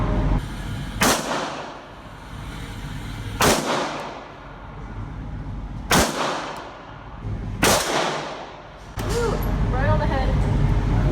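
Glock handgun fired at an outdoor range, four sharp loud shots spaced a couple of seconds apart, each followed by a short ringing decay, with a voice talking near the end.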